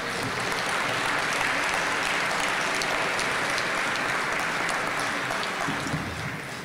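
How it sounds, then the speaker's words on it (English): An audience at a cannabis regulation workshop gives the panelists another round of applause: continuous, even clapping from a sizable crowd, sustained at moderate level throughout with no break. "can we give our panelists another round of applause?"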